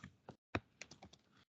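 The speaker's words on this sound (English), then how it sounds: "typing" Typing on a computer keyboard while opening a web browser, a few separate bursts of quick key clicks with short pauses between them, close and fairly quiet, with no talking.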